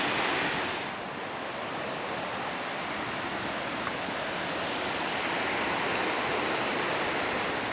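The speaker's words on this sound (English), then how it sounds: "Now the river has lowered down, revealing a different beauty to the falls." Dense, steady roar of rushing water from Frenchman Falls in Suriname, loud and unbroken throughout, heard from close by.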